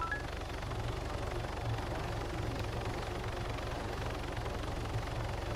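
Helicopter flying in Altis Life, a continuous low rotor drone with pulsing thump, steady and fairly loud throughout with no talk.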